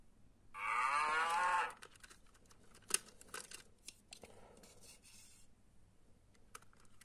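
A cow on a farm lets out one long, loud moo near the start, followed by quieter scattered rustling and clicking noises with no talk.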